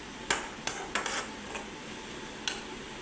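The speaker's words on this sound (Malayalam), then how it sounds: "ഇത് നന്നായിട്ടൊന്ന് ഇളക്കി കൊടുക്കാം." Onions and curry leaves get stirred in a pan for an egg curry, with several sharp metallic clinks of a spoon against the pan spaced over a few seconds above a faint background sizzle, no voices.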